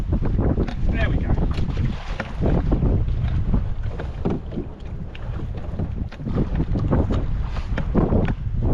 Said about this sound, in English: shame the wind's picked up a little bit